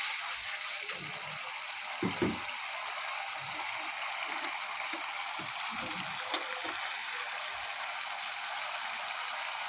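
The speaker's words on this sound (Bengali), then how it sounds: "জলটা ফুটছে।" Water boils in a cooking pot over freshly fried spices: a steady, loud hiss with soft, irregular low bubbling pops scattered throughout and no voices.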